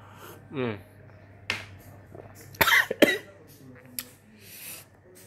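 A few short, dry coughs spaced out over several seconds, close by, with quiet room noise between them, while thinner is used to replace a phone screen.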